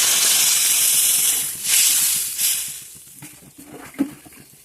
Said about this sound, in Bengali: এবার আমি এর মধ্যে পরিমাণ মতো জল দিয়ে দিলাম।